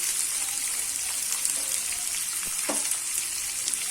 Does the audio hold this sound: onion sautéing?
yes